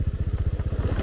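Motorcycle engines rumble in a fast, even low throb for about a second, loud and close on a rough forest road, with no voices.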